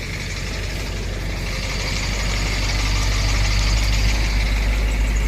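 An old 706 diesel tractor engine idles with a steady, loud, low rumble and a slight knocking texture throughout, heard close with no talking.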